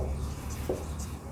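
Quick strokes of writing on a board during a Hindi grammar lesson, close and clear, with a couple of short scratches and no speech.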